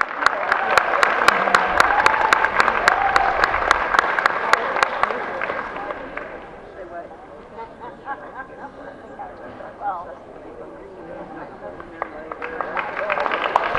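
Crowd applause at a spaniel dog show claps loudly for several seconds, then fades into quieter murmuring and scattered claps before picking up again at the end.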